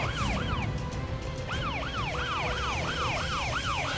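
An ambulance siren wails in rapid, repeating rising-and-falling sweeps, close and steady over faint traffic noise.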